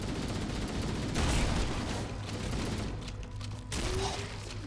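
Shotgun blasts and heavy gunfire crackle in the video game Halo Combat Evolved, loud and continuous with dense booming bursts and a few sharper spikes, no voices.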